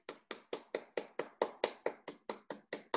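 Fourteen sharp hand claps in a steady, quick rhythm, each crisp and evenly spaced, heard close and alone with no voices.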